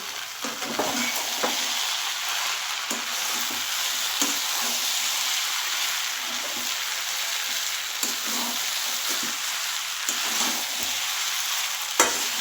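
A flattened-rice murighanta with fish head and a sprinkle of cumin powder being stirred in a sizzling pan: a continuous close frying hiss broken by repeated spatula scrapes at an irregular pace.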